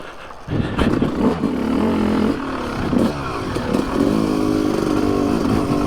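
A Yamaha YZ250 two-stroke dirt bike without electric start bursts into life and runs on a trail, its engine clattering loudly and close with a few uneven revs and surges.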